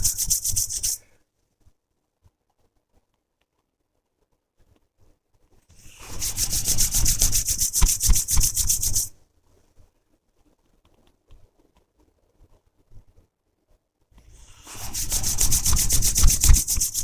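Two palms rubbing together briskly during a meditation practice, heard in three separate bursts of dry, close, scratchy friction, each a few seconds long with silence in between.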